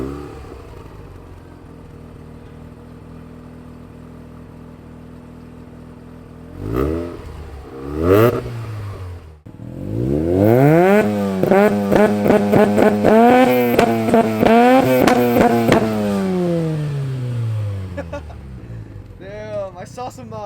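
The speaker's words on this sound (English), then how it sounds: "Damn, I saw some fire, backfire, bro." A 1987 Mazda RX-7 FC rotary engine idles, then revs hard in repeated rising and falling sweeps, loud and close, with sharp crackling backfire pops scattered through the revving.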